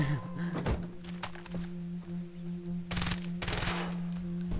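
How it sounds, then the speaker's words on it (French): Bursts of rapid gunfire in Far Cry 3 crackle loudly in two quick volleys, with scattered single shots and thuds over a steady electronic hum. "J'aime bien le bruit de l'arme quand elle tire."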